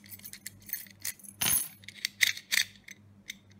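A keyed iknoic entrance knob lock being worked: a series of close, sharp metallic clicks and clacks of the latch and key, with one longer rattling scrape in the middle, against a faint background hum.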